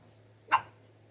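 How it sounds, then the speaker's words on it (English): A puppy lets out a single short bark or yelp, faint against a quiet room with a low steady hum. "Little puppy trying to bite my comic books."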